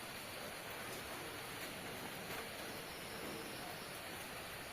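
Steady, unbroken rain falls during a journey across India on foot, a constant soft wash of noise with no pauses and no voices.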